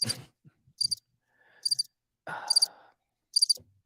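Short bursts of high, rapid cricket chirps from a soundboard effect repeat about once a second, separated by silence, with a few low thumps and rustles between them.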